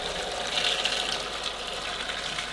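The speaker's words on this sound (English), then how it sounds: "So I believe the kettle's boiled. Just pour over the onions as so." Just-boiled water from a kettle pours over onions being prepared for pickling, a steady close hiss and splash that runs the whole time without a break.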